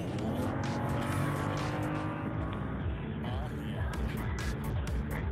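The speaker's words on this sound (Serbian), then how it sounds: "Evo da čujete malo BMW, aj." A BMW 335i Coupé engine pulls hard while driving around Munich, its pitch climbing and dropping through the gears over the steady roar of road and tyre noise, close and loud throughout.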